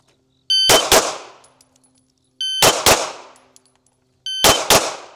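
A gun dry-fired three times at even intervals, each pull giving a close, sharp double metallic clack with a brief ringing tail, separated by silence.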